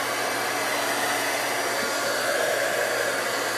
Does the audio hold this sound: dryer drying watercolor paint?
yes